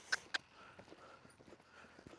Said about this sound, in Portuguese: Faz parte da vida do treinador e do treinamento dos cavalos a gente galopar no campo.